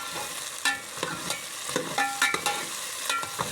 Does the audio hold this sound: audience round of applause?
no